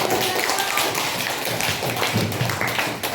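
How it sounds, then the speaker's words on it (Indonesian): Participants at a teacher training workshop clap and applaud, a busy mix of rapid hand claps and taps with a few low thumps, with some voices mixed in. "Tepuk tangan dan aplaus"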